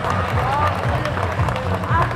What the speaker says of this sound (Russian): Бурные аплодисменты, ребята!